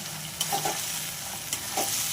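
Potatoes and a prepared spice paste with a pinch of sugar are sautéed in a pan, a close steady sizzle broken by a few quick stirring scrapes and clinks.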